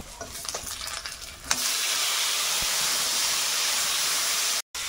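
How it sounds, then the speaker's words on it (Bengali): Green chillies and tomato go into hot oil. A soft scraping and stirring is followed by a loud, sudden, steady sizzle that holds close and even, with a brief cut near the end and no voices. "টমেটোটা ভেজে নিয়েছি"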